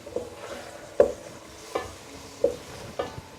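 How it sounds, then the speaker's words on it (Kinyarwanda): Onions fry in a pan while being cooked for bar-style potatoes, a soft sizzle broken by several rhythmic scraping clinks of the stirring utensil, fairly quiet and close. "Igitunguru cyacu turagikaranga gishe, tubone gushiramo inyanya."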